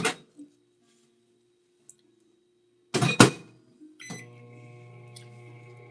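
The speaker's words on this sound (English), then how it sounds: "Let's put this in the microwave for 12 seconds" A kitchen microwave oven gets loaded with a door thunk and button beeps, then starts up with a steady low hum for heating food briefly; close, no talk.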